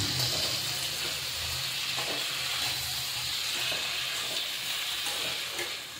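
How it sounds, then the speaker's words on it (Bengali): Chopped onions and green chillies fry in a pan for a Bengali-style cabbage dish, giving a steady, even sizzle and hiss throughout with no voices. "এখন এটা ভাজা ভাজা হচ্ছে"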